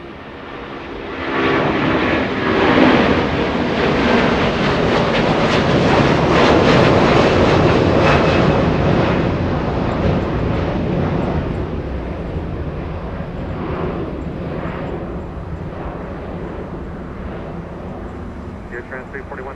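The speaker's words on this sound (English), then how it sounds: "It's an A330-200 DHL, flight 341, close up departure." A DHL Airbus A330-200 cargo jet departs Los Angeles International Airport nearby, its engine roar building quickly to a loud, broad rumble that holds and then slowly fades as it climbs away, with people talking over it.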